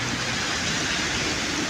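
Heavy afternoon rain in Pasig, Philippines pours down in a dense, unbroken hiss, loud and steady from start to finish.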